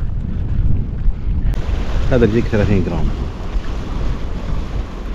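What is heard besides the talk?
strong wind blowing into the microphone by the sea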